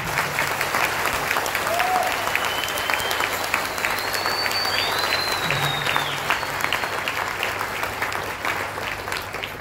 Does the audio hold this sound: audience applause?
yes